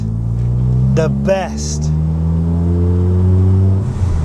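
A 480 bhp Mazda RX-7 engine revs hard while driving, its loud droning tone climbing and holding in pitch through steady harmonics, with a voice speaking briefly over it.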